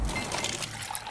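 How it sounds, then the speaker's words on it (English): Water from a Bosch Quick Ice Pro refrigerator dispenser pours in a brief, steady hissing trickle, close and continuous for about a second. "Those are the sounds of Bosch's Quick Ice Pro,"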